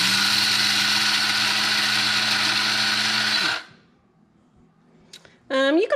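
A coffee grinder grinds quail feed with a loud, steady whir for about three and a half seconds, then stops abruptly, leaving brief quiet and a short sound at the end.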